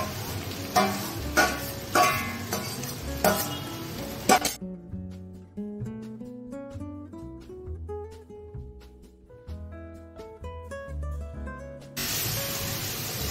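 Fried bori, bitter gourd and eggplant stirred in a pan for shukto, with scraping spatula strokes and clinks over a light sizzle at the start and end; a musical passage fills the middle.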